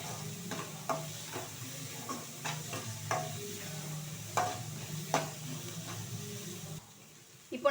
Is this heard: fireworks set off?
no